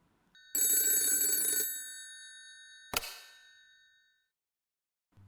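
A telephone-style bell rings in one sustained metallic burst, then a single sharp clang follows and decays slowly into silence, with no voices.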